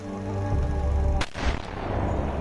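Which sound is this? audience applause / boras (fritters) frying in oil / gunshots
gunshots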